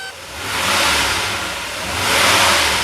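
A restored pre-merger AMG car that sat unused for 27 years, its engine running just after start: a smooth, steady low hum with broadband road-like noise that swells and eases gently, no voices.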